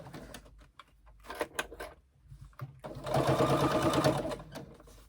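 Sewing machine top-stitching backpack straps: a few short bursts of stitching first, then a longer steady run of rapid needle clatter close by, fading as it stops.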